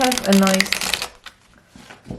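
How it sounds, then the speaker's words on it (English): A quick riffle of thick tarot-size cards being shuffled up close, a dense fluttering burst that stops abruptly, followed by faint handling sounds. "have a nice bend, so they shuffle quite well"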